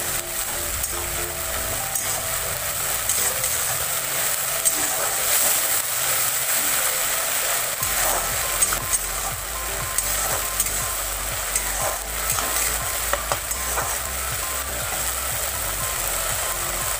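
Onion paste fries in a pan for a rohu fish kalia curry, a continuous close sizzle with scattered stirring clicks over a low background hum, no one talking.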